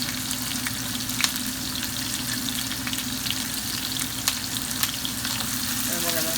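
Ackee and saltfish with mixed vegetables sizzling steadily in a hot pan while being stirred, a close, continuous frying hiss with occasional scrapes and taps of the utensil and no talking.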